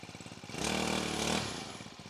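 A GX35 grass cutter engine fitted with a flexible blade runs with a buzzing small-engine drone that swells louder in the middle and then eases back slightly.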